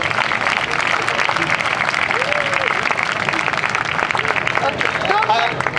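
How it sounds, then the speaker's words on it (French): A large crowd at the Nuit Debout night-time gathering in Paris gives loud, steady applause throughout, a dense, unbroken wash of clapping with voices mixed in. "elles méritent vraiment des applaudissements"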